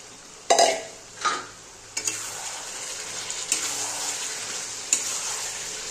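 Fried potatoes are dropped into a pan of cooked mutton, with a few knocks and clatters of utensils followed by a steady low sizzle. The sound is close and fairly quiet.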